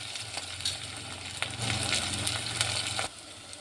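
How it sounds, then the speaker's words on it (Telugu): Ginger garlic paste fries with curry leaves in a hot pan, giving a loud, steady sizzle. The sound swells as the paste is stirred, with occasional scrapes of the spoon, then drops sharply near the end. "అల్లం వెల్లుల్లి పేస్ట్, వేసుకొని ఫ్రై అయ్యేంత వరకు కలపాలి."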